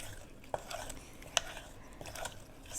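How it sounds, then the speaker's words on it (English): Green papaya salad is mixed with its dressing in a bowl, giving faint, soft stirring and light clinks of a utensil, with a couple of sharper taps. "just start to mix everything together"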